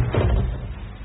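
A door in a radio drama is pushed shut with one brief, muffled thud that fades quickly, close by, with no talk over it.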